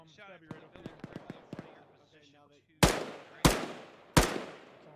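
Gunfire in the military shooter ArmA 3: after a stretch of speech, three loud, sharp shots ring out at even intervals, each with a short decaying echo.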